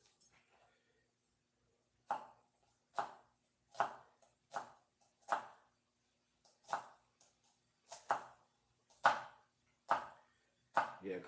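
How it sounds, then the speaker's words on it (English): A knife chops a mild, oniony, garlicky bulb on a board, making a dozen or so crisp, close cuts in an uneven rhythm with quiet gaps between them. "Give it a little cut with our knife here"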